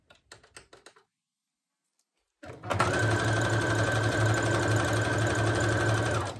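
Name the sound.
sewing machine stitching down the center of a ruffle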